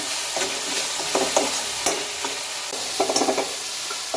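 Tomatoes sautéing in a pan for dal tadka, a steady close sizzle with stirring scrapes and brief bursts of crackle recurring throughout, no voices.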